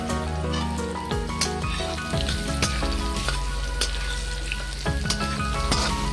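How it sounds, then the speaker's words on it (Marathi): Onion sautéing in a pan for a guava bhaji, a steady close sizzle with occasional sharp clicks and scrapes of a spoon stirring against the pan. "थोडंसं परतून घेणार आहे. आता मी ह्यामध्ये कांदा ॲड केलेला आहे."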